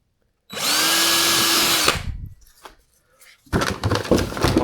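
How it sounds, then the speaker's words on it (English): A power drill whines loudly for about a second and a half while boring a hole for an anchor trolley on an Old Town Malibu PDL kayak, then handling noises follow and a second rougher burst of drilling starts. "Then you go ahead and get your drill again, and you try to make it as straight as you can."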